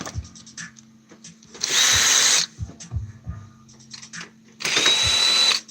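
A power drill backs screws out of scrapped DVD drives in two loud, close bursts of about a second each. Quieter clicks and handling noises of the parts fill the gaps between the bursts.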